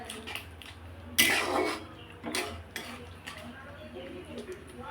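A spoon stirs lemon chicken curry in a cooking pot, giving a few sharp metallic scrapes and clinks, one louder clatter near the start, over a soft background sizzle.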